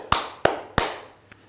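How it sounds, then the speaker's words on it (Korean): Three sharp hand claps spaced evenly about a third of a second apart, close and crisp, followed by a faint fourth tap in an otherwise quiet room. "태권도인의 한 사람으로 박수를 보냅니다"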